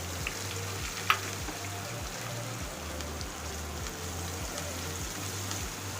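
Chopped onions frying in a pan over a lowered gas flame for a Kathiyawadi-style dhokli curry, giving a steady, moderately quiet sizzle with one brief clink, and no talking.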